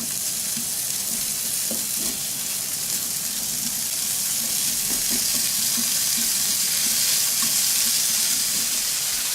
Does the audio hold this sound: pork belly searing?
yes